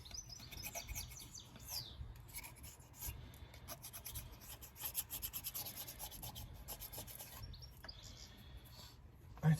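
A steady rasping rub as rough deposits are abraded off an Audi A4 Quattro cylinder head, a close, continuous scraping with slight variations in pressure.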